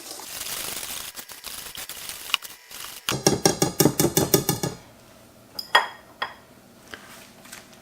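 A balloon whisk stirs pandan chiffon cake batter in a bowl, with a burst of rapid, evenly spaced metallic clinks against the bowl's side, then softer scattered taps and scrapes.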